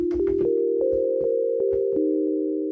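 A steady synth tone with a very long release holds beneath a series of plucked, percussive attacks, then sustains evenly without cutting off.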